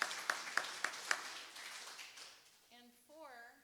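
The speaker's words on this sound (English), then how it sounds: "Let's give all of them a huge round of applause." At a Sunday church service, a handful of sharp, evenly spaced claps ring out, then thin into softer scattered clapping before a voice begins speaking at the end.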